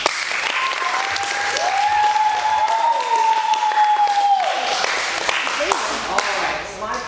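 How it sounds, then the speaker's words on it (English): An audience at student passion project presentations applauds, a spread of clapping under a sustained whistling tone, with a person talking toward the end. "round of applause"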